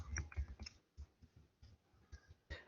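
Keys tapped on a computer keyboard while a DNA sequence is entered into a bioinformatics tool, in quiet, irregular clicks and short bursts, close and fairly soft, with no voice.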